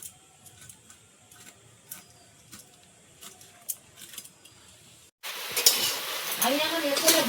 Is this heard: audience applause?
no